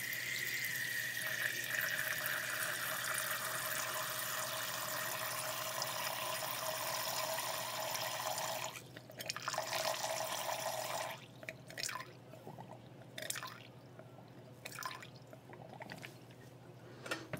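Distilled water being poured and measured out to make a lye solution, a soft, steady pour running for several seconds, then a few faint drips and light splashes in a quiet room.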